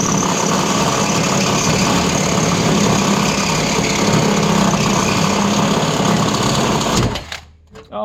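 A power drill runs steadily with a drill bit while installing a Wallstar oil boiler, giving a loud continuous whirring grind for about seven seconds before cutting off abruptly.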